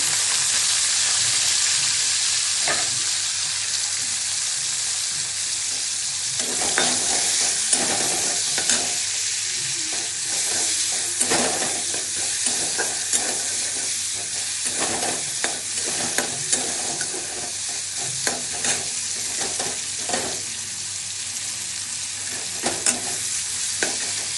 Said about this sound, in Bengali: তেলে সাদা জিরা দিচ্ছি, দিয়ে পেঁয়াজ কুচিটা দিয়ে দিচ্ছি